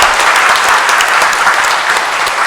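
A church congregation at Sunday Mass applauds confirmation candidates with loud, dense, steady clapping that fills the room for the whole stretch.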